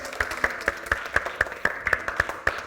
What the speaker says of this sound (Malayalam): ഒരു ബിഗ് ക്ലാപ്പ് കൊടുത്ത് എല്ലാവർക്കും